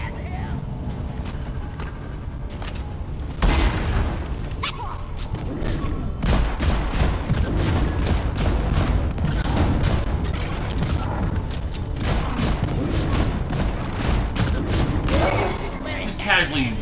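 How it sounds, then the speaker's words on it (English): Sustained gunfire from weapons in the Deep Rock Galactic co-op game, a dense run of rapid shots and booming impacts after a quieter opening, loud and continuous with players talking over it. "Just casually mag dump into it."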